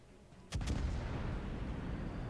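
A warship's artillery salvo goes off in a naval video game aboard the cruiser Indianapolis: two sharp blasts in quick succession, then a deep rolling rumble that stays loud after the shots.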